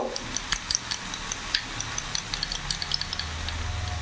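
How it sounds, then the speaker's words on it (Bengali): A spoon whisks yogurt in a small container for a katla fish kalia, giving a quick, irregular run of light clicking taps over a faint kitchen sizzle, close and fairly quiet, with no talk. "দইটা ভালো করে এইভাবে ফেটিয়ে নেব"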